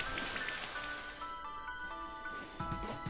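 Rain Dance falling rain from the Pokémon Sword battle tower, a steady hiss of drops pattering across the full clip beneath game music tones, with no speech.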